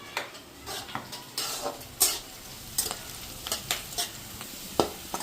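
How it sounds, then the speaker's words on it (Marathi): Onion frying in a pan at home, slightly scorched, with a steady sizzle under repeated scraping and stirring clatter from a spoon against the pan, close and fairly quiet. "तर कांदा चांगला परतलाय माझ्याकडून, थोडासा तो करपला पण"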